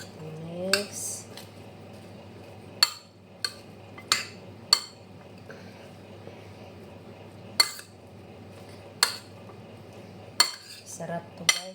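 Vegetables mixed with black pepper and olive oil in a bowl, a run of sharp utensil clinks and taps against the dish at irregular intervals over soft squishing, quiet between strikes.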